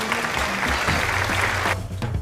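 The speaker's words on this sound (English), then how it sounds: "Let's give him a round of applause" An audience claps for a guest historian at a formal program, a dense burst of applause that fills the room for about two seconds and then drops off.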